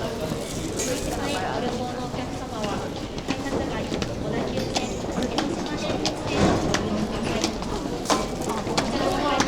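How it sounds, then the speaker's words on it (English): A train sits at a busy Japanese station platform while a door-closing announcement plays, with clattering platform noise, crowd bustle and speech throughout, loud and close. "4番線ドアが閉まります。"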